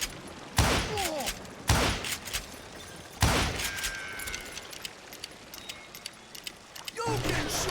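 Gunshots in the western shooter game Call of Juarez: Gunslinger, several loud broadband cracks spaced a second or two apart with lingering tails, mixed with game voices and shouts between shots.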